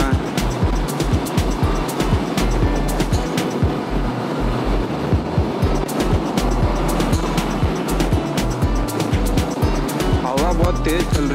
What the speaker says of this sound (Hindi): हवा बहुत तेज चल रही है, मतलब हेलमेट इधर उधर हिल रहा है।